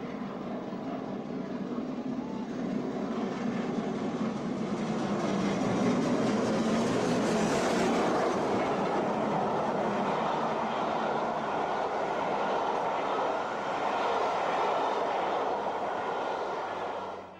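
Great Western Railway steam locomotive King Edward I runs steadily with a continuous broad rushing rumble and faint rhythmic clatter, quite loud and sustained throughout with no talk.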